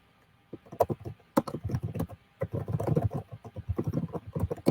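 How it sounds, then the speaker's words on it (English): Fast typing on a computer keyboard, close and crisp, with bursts of rapid key clicks separated by short pauses. "I'll type it in the comments."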